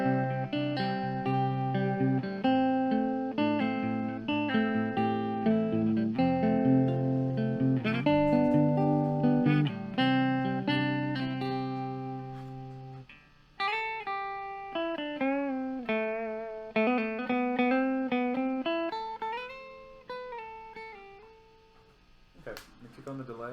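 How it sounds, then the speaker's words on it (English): Clean archtop electric guitar with a P90 pickup played alone, a run of plucked notes and chords with clear sustained harmonics and distinct attacks, steady and close, thinning to sparser single notes near the end. "I'm going to be playing my velour archtop with a P90"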